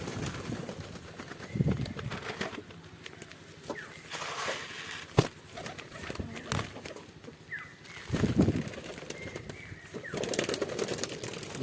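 Pigeons in a loft give soft, low cooing calls with occasional bursts of wing flapping and small knocks, fairly faint and close, scattered irregularly throughout.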